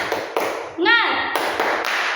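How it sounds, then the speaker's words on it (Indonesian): Classroom rhythmic clapping chant led by a teacher with children, a series of sharp claps in a patterned beat, with a short sung or spoken call in the middle; voices present. "Tepuk semangat."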